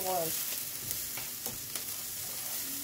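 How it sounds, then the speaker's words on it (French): Onions frying in a pan for mini burgers, with steady close sizzling throughout and a few soft scrapes of stirring, no talking. "J'oublie pas de remuer mes oignons également, qui commencent à prendre"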